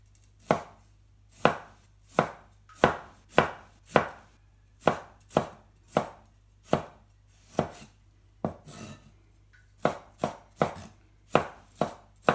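A knife chops vegetables on a cutting board for a Thai egg salad, crisp sharp thuds landing about once per second in a steady series of around seventeen cuts, close and clear with no talk.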